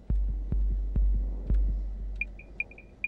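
Four or five heavy, booming thumps from a drum pad in the video game Garry's Mod land at a steady pace, followed by a few short, high electronic blips near the end; no one speaks.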